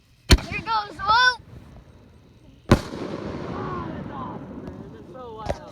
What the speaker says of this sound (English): I'm pretty sure everybody at the near the water can hear us. Those fireworks, those huge ones.